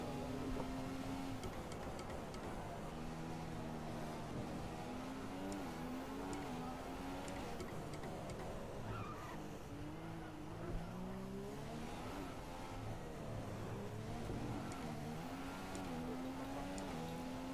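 Race car engine in a Monaco round of an online racing game, revving and accelerating with rising and falling gear-shift pitch sweeps, loud and continuous throughout with no talking.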